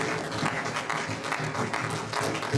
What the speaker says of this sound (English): We are still clapping